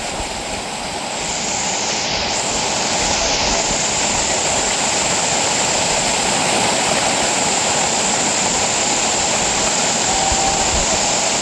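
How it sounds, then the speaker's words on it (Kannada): Heavy rain pours down near Harwada waterfall in Ankola, a dense, continuous rushing roar that stays loud and even from start to finish, with no voices. "ಸಿಕ್ಕಾಪಟ್ಟೆ ಮಳೆ ನೋಡಿ, ಮಳೆ ಎಲ್ಲ ಕಾಣ್ಬೋದು ನಿಮಗೆ ಯಾವ ರೇಂಜಿಗಿದೆ."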